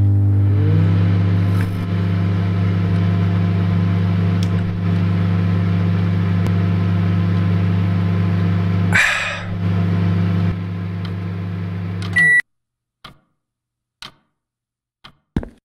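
A microwave oven hums steadily in The Convenience Store horror game, a loud, even electrical drone that runs for about twelve seconds and then stops abruptly. A few sharp beeps or clicks follow.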